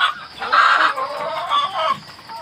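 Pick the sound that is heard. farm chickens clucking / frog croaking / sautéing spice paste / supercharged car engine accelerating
farm chickens clucking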